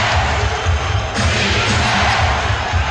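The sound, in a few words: basketball crowd chanting defense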